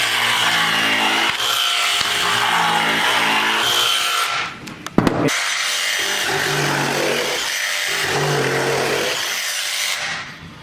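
Power saws rip through wood in fast speed cuts. The loud, continuous roar of the blade in the workpiece breaks off briefly midway with a few sharp clacks, then resumes for a second cut.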